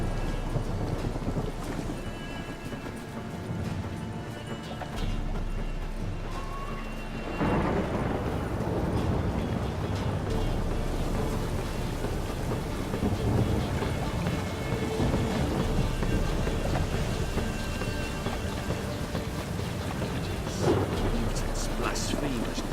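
Rain and thunder in The Witcher 3, a steady downpour with low rumbling thunder rolling in and swelling midway, alongside faint hoof clops and occasional speech under the storm.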